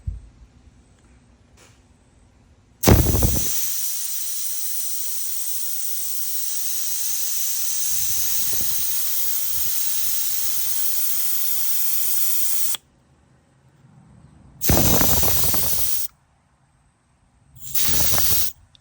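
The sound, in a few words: AC refrigerant gas hissing out of Schrader valve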